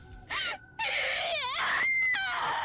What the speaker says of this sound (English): Jeez, that was a scream